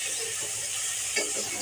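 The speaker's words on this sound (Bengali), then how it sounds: "আমি সবজিটা ভেজে নিয়ে তোমাদের দেখাচ্ছি।" Eggplant, potato and onion fry in oil with five-spice seeds for a fish curry, giving a soft, continuous sizzle and hiss heard alone at low level.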